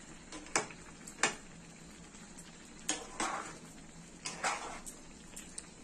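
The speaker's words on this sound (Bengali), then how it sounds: "একবার ভালো করে নাড়িয়ে দেব উপর নিচ করে।" Vegetable khichdi being stirred in a pot: a spoon scrapes and knocks against the metal in several separate bursts, up close and with no voices.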